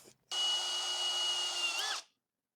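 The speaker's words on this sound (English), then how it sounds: "it does look like we're gonna have to bust out the drill" A power drill spins up close and loud while boring into a custom DIY fender liner on a Tacoma, holding a steady whine for under two seconds before cutting off.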